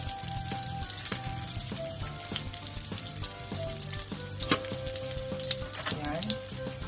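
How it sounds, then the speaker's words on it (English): Pork sweet and sour sauce sautéing in a pan, a steady frying sizzle with stirring scrapes and clinks running throughout over a constant, moderately loud hiss. "How to saute the sauce of pork and sweet and sour."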